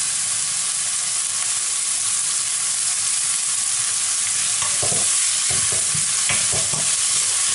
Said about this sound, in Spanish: Vamos moviéndolo hasta que se vaya pochando